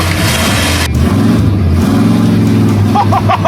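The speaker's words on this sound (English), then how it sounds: "I'm driving a freaking monster truck!" A monster truck drives and revs up close, its heavy engine roaring steadily with rising and falling pitch as it drives over a car, loud and continuous throughout.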